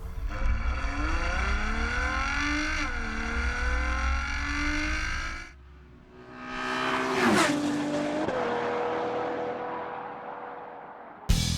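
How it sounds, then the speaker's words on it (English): A Ferrari FF's V12 engine roars loudly and steadily, drops briefly, then revs up again with a rising howl and a squeal of tires. "Huge power from the V12 motor endows the FF with the pace and the noise you'd expect"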